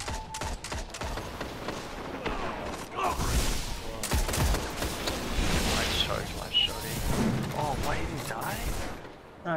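Rapid gunfire bursts and scattered shots in the video game Destiny, shooting from a balcony, dense and fairly loud throughout with voices talking over it.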